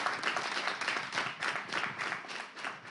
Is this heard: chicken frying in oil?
no